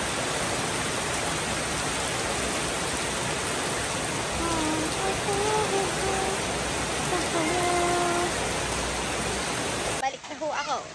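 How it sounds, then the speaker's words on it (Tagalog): Heavy typhoon rain pours down in San Antonio, Quezon, a dense loud steady hiss of rain on surfaces with faint voices beneath, cutting off abruptly near the end. "Ang lakas ng ano, ulan."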